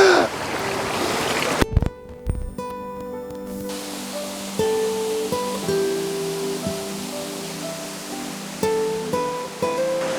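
Black Clough waterfall flowing, a constant broadband rush of falling water close by, with a brief sharp knock and a few scattered faint tones and clicks over the steady roar.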